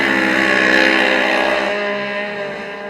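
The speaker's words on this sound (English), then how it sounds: "she is on the throttle right now" A side-by-side off-road racer's engine runs on throttle at a Texas Outlaw SXS Series race, a loud sustained harmonic whine that holds high and then drops in pitch as the machine passes, with no talking.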